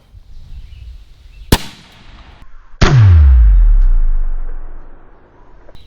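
An AEA Element Max air rifle fires a single loud, sharp shot followed by a booming report that rolls off slowly, with a fainter sharp crack heard just before it and quiet outdoor background.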